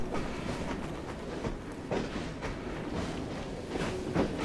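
A train rolls past in the Victorian London setting of Assassin's Creed Syndicate, a steady loud rumble with rhythmic clickety-clack of wheels on rails, close and continuous with no talk.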